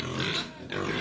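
Pig oinking, two short close grunting snorts separated by a brief dip.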